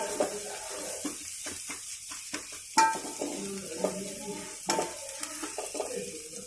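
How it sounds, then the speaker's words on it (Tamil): Egg and vegetables for fried rice are stirred in a hot pan, a soft sizzle broken by repeated close scrapes and clinks of the spatula, with no talking. "இப்போ இந்த முட்டையோட நம்ம எல்லாத்தையும் சேர்த்து கிண்டிடலாம்"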